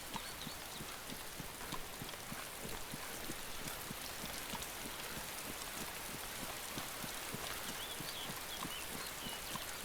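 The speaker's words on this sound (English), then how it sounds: "Running through the rain." Steady rain falling in the video game DayZ, a dense continuous patter with rhythmic footstep-like taps as a character runs through it, moderately quiet and with no talking.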